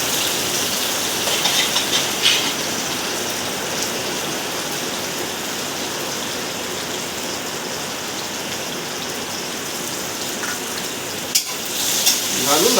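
Garlic, onion and bird's eye chili frying in a pan before pork spare ribs go in, a dense continuous close sizzle with occasional stirring scrapes, steady and loud throughout.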